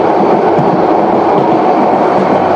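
A dense, continuous rumble and rattle of the Subarna Express, a non-stop train running on rails near Akhaura Junction, heard loud from inside the carriage.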